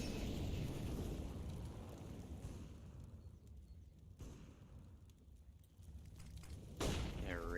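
Sharp gunfire bursts from an AWP sniper rifle and other weapons in a Counter-Strike esports match, sounding under constant loud caster commentary and crowd-like game noise, with a bright swooping effect near the end.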